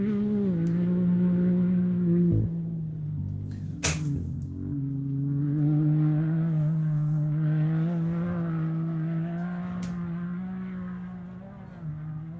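Off-road race truck, the number 651 of Greg Campbell, roaring past at the St George 399 prologue: a loud sustained engine drone that shifts pitch around the gear changes, with a brief sharp burst midway, as the vehicle approaches and pulls away.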